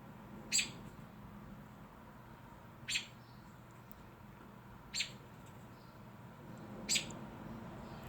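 A bird gives four short, sharp chirps spaced about two seconds apart, a protective parent near its nest, heard faintly against a quiet outdoor background.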